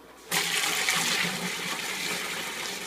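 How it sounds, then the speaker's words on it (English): Home-brewed dark ale with pearl hops pours through a sieve into a fermenter, a sudden loud rush of liquid that starts abruptly and keeps splashing steadily. "We're going to pour that through the sieve."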